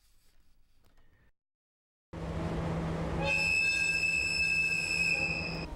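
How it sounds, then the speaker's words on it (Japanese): The Royal Express, a luxury sightseeing train in Hokkaido, rolls along the rails with a continuous rumble and a high, steady wheel squeal that grows louder after a brief silence. "豪華観光列車ザ・ロイヤルエキスプレス JR 北海道と東急が連携して先月北海道で初めて運行した"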